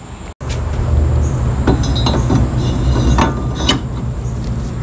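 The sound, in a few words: car brake rotor being handled and fitted onto wheel hub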